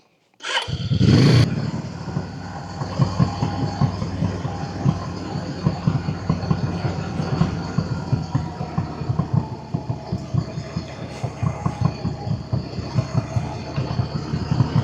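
A motorcycle riding along a scenic road in Cumbria, its engine starting with a loud burst, then settling into a steady, close, throbbing drone that carries on without speech.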